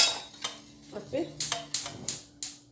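A spoon scrapes and knocks against a pot while an apple tart mixture with milk is stirred, giving a run of sharp, evenly spaced metallic clinks at close range over faint background hum.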